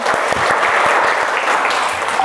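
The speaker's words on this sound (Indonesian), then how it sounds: "Tepuk tangan dulu." A classroom of students applauds a classmate after a presentation in an Indonesian school lesson: brisk, close hand-clapping with sharp individual claps audible in the mix, lasting a couple of seconds.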